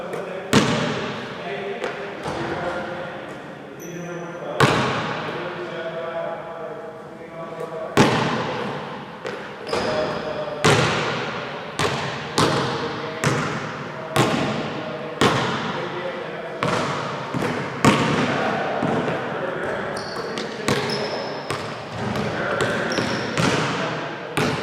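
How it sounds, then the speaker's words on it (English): During floater shooting drills, a basketball bounces and thuds repeatedly at an even pace, with sharp impacts every second or two across the whole stretch, mixed with rim and court knocks under steady speech. "you may shoot a floater and it's bouncing on the rim"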